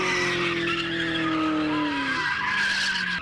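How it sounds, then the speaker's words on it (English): Holden Commodore cars on a skid pan, tyres spinning and smoking: loud, close screeching tyre squeal with sliding pitch and a roaring engine underneath, continuous throughout. "let loose in their Commodores so we could film some tyre smoking fun"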